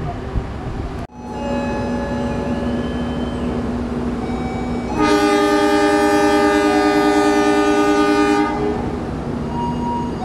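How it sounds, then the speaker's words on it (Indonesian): The Dharma Wangsa train departs Semarang Tawang station, a loud steady diesel rumble with a sharp knock early on, then a long, strong multi-tone horn blast lasting several seconds before the engine drone carries on alone. "kereta api Dharma Wangsa diberangkatkan kembali dari stasiun Semarang Tawang dengan tujuan akhir stasiun Surabaya Pasar Turi"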